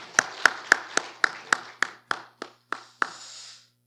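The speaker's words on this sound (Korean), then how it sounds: "박수로 함께 감사와 격려하겠습니다." About eleven sharp, evenly spaced claps ring out in a quiet church sanctuary during an anniversary thanksgiving service, close and distinct with a short reverberant tail after each.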